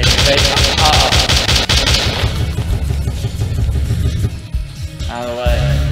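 Rapid gunfire from a gun in the video game Slendytubbies 3, loud bursts of shots for most of the stretch with a game soundtrack and effects underneath, easing off briefly before resuming.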